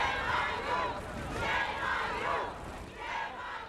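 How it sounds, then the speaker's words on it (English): A large crowd of New York hotel maids jeers outside a courthouse, a dense, rising and falling roar of massed shouting voices heard at a moderate distance. "What you're hearing is a large crowd of New York hotel maids jeering him"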